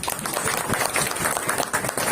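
An audience at a cricket match claps loudly and continuously, a thick, close burst of applause filling the whole short moment.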